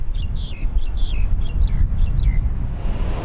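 Chirpy bird calls sound over a loud low rumble in a resort garden on Langkawi, a quick series of short tweets repeating for a few seconds before fading, with no voices.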